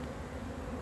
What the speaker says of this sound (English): there's too many bees here